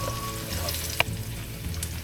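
Food sizzles steadily in hot oil while frying golden brown for pancit, a close, continuous crackle with one sharp clink midway and no talking.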